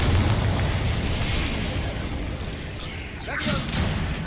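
A Confringo fire spell explodes in the video game Hogwarts Legacy, a loud burst that rolls on as a continuous rumbling roar and then swells again with a sharp whooshing crackle near the end.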